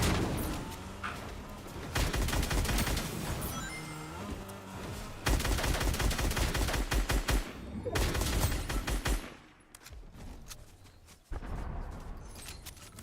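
A Midas gun in a video game fires long, loud bursts of rapid automatic gunfire, broken by short pauses, with some quieter stretches between the heavy volleys.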